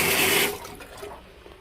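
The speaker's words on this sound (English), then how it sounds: "So now this is water from the faucet. Push the bell up and start to fill the tank." Tap water runs from a household faucet into an aquarium tank, a steady broadband rush that is loudest in the first half second and then settles into a quieter trickle.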